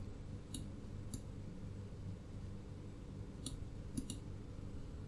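A handful of sharp, isolated clicks from a computer keyboard and mouse during code editing, sounding close and spaced irregularly over a quiet, steady background hum.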